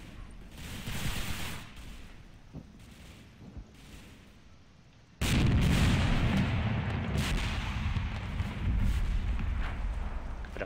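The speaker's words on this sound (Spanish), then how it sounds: "Las explosiones brutales." Heavy artillery booms and gunfire roll on throughout in the video game Combat Mission Red Thunder, then the noise jumps sharply louder halfway through into a sustained, thundering barrage.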